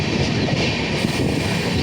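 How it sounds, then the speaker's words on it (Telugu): A train on the Visakhapatnam to Araku line rumbles steadily along the rails, a continuous loud roar with rhythmic clatter of wheels throughout. "అంటే ట్రైన్ వెళ్తుంది"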